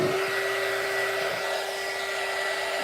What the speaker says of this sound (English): We're going to get the heat gun.